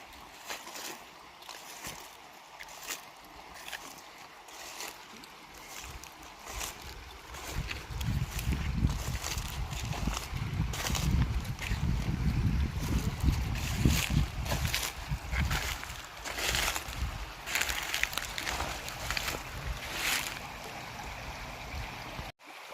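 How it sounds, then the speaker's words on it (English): Running water of a small river swollen by water released from a dam, a broad continuous rushing that swells louder midway and stays steady outdoors, with occasional breezy rumble. "standing here listening to this running water"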